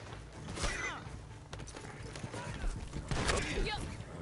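Horse hooves clip-clop alongside a whinny in the Red Dead Online western video game, played on a PS5, with creaking and busy game sounds layered over the moderately loud mix.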